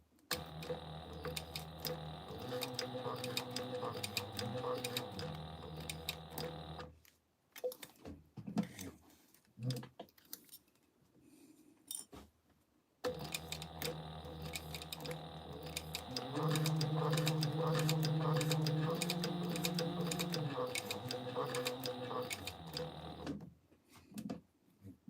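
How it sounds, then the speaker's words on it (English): A sewing machine topstitches around a fabric seam in two long steady runs, its rapid needle chatter pausing briefly in the middle while handling noises and soft movement fill the gap. "I'm just gonna top stitch this all the way around"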